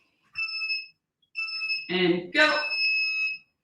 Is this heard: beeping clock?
yes